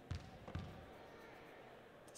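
In a PS1 basketball video game demo, a basketball bounces twice in quick succession, each thud soft and low, over a faint background hum.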